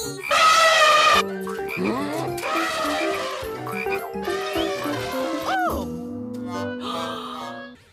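Frogs croak in a cartoon, amid busy music-like tones and voices, with loud bursts of croaking and chatter throughout.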